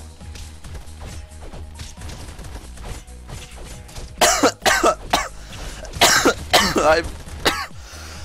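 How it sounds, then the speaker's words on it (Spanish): A person has a dense coughing fit, with a burst of loud, harsh coughs and throat clearing near the mic following a stretch of quieter sounds, and a short exclamation in between. "No sé por qué me dio un ataque de tos ahí bien denso"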